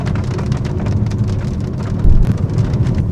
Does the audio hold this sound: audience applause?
no